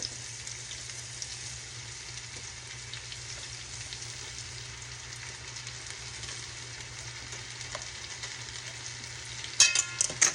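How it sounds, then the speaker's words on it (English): Appetizers fry in a hot pan with a continuous, even sizzle and crackle, steady throughout, ending in a few louder spattering pops near the close. "We're frying them up."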